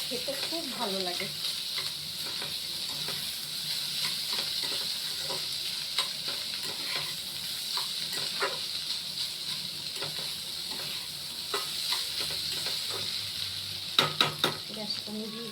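Food sizzles steadily in a hot pan while being stirred, with scraping clicks and soft taps scattered throughout and a brief cluster of louder knocks near the end, close and alone without talk.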